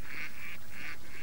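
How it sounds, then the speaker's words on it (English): Ducks quack in a few repeated nasal honking calls, fairly loud and close, in a short rhythmic series over background noise. "what was that funny quacking noise?"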